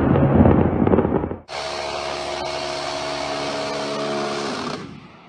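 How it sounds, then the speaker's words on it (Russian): A C-RAM air defense gun firing rapidly in a sustained, continuous roar of extremely fast shots lasting several seconds, loud and steady, preceded by a dense rumbling burst. "Вы представляете, установка делает 75 выстрелов в секунду."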